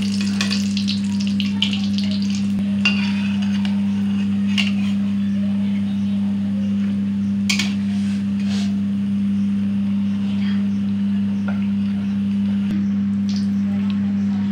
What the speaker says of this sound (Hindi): इसे हल्का सुनहरा तक होने तक पकना है इसलिए धीरे धीरे इसे अलट पलट कर दें